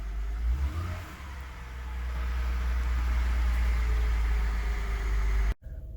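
A 2000 Honda engine cranks and catches, then holds a steady rising rev with a loud low rumble for several seconds before cutting off abruptly near the end.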